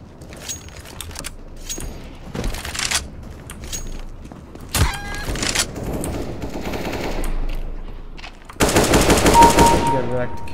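AK-47 bursts ring out in CS:GO deathmatch on Dust II, with loud rapid automatic fire, scattered single shots and footsteps, ending in a sustained heavy volley.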